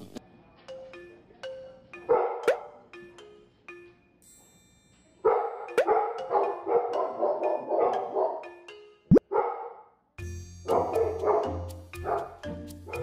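A dog barks in several loud, close bursts of yipping woofs separated by short quiet gaps, with a harder run of barks near the end and no talking.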